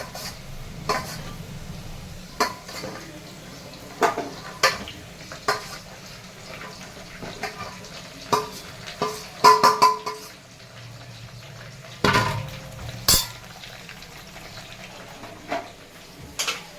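Potatoes, chillies, onion, drumstick and brinjal being stirred in a cooker pot, with repeated scraping knocks and clanks of a spoon against metal at irregular intervals over a quiet, faintly sizzling background.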